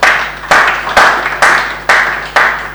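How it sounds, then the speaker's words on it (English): An audience applauds in a loud burst, the clapping surging in regular waves about every half second rather than holding steady, with no talking over it. "we deserve a round of applause"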